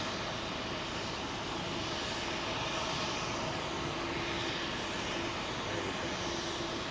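MNG Airbus A330 jet at London Heathrow, a steady, broad engine roar from a distance that holds constant throughout with no speech.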